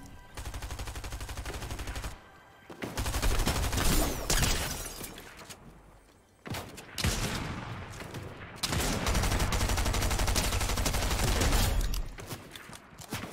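Loud, sustained Fortnite gunfire in a chaotic team fight, with long bursts of rapid automatic fire and crashing impacts broken by brief lulls, dense and close throughout.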